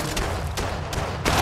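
Dense gunfire in the shooter Apex Legends Mobile, a few loud blasts marking a steady, roaring barrage of shots.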